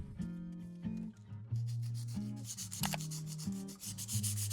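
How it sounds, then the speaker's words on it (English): Broken pottery pieces have their edges lightly sanded, with repeated short rubbing strokes close to the mic. Soft tonal music plays underneath the scraping. "Step 1 of the Kintsugi technique is to sand the edges of the broken pieces."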